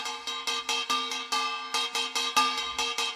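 A kkwaenggwari, the small brass gong of Korean samul nori percussion, is struck in a quick, driving rhythm of bright, clanging metallic hits, about a dozen in a row, loud and close with no talking.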